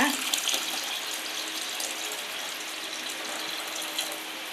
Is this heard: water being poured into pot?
yes